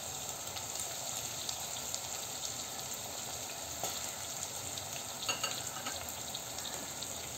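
Chopped tomatoes and vegetables being stirred in a frying pan give off a steady, even sizzle with faint scraping, close and continuous, with no voices.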